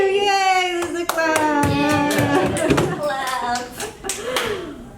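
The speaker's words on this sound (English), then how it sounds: "This is a clap." A few sharp hand claps at a fan convention Q&A panel at Ronin Expo 2018, scattered and close, heard under continuous talking.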